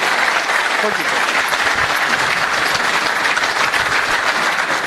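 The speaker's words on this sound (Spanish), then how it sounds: "Aplauso nuevo para el mago." Dense, continuous audience applause for a magician, a steady wash of many hands clapping at full volume through the whole stretch, with some faint crowd murmur beneath.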